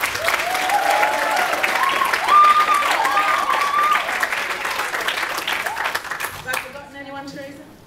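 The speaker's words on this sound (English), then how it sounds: "A super big clap for all our performers." Applause for the performers at a music gala: a hall full of clapping with voices and cheers mixed in. It fades toward the end as a tonal sound takes over.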